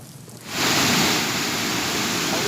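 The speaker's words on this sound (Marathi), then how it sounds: "रत्नागिरी जिल्ह्यात 2 दिवसांपासून मुसळधार पाऊस सुरू आहे" Heavy monsoon rain pours down in Ratnagiri district, Maharashtra. A loud, dense, steady roar of falling water swells in after a quiet half second and continues unbroken, with no voices.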